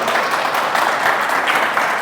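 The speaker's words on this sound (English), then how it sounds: "Let's give a round of applause to Dr." An audience applauds a speaker, steady, fairly loud clapping that fills the whole two seconds without a break.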